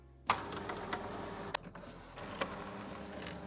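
An inkjet printer feeds and prints a greetings card on textured Tintoretto gesso paper, a continuous mechanical whirring and shuttling with sharp clicks and clunks at intervals, close and fairly quiet.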